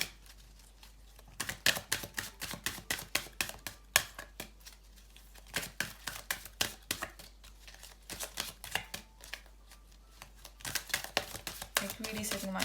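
A tarot card deck is shuffled by hand in rapid bursts of crisp riffling clicks and flutters, with short pauses between runs, close and fairly quiet, with no talking.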